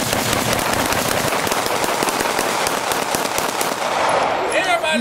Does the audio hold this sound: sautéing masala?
no